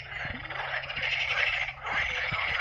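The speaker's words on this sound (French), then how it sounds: "Et on entend bien les grenouilles." Frogs croaking at a pond beside a campsite, a dense chorus of rapid rattling calls with sharp individual croaks, fairly close and continuous, with a brief dip midway.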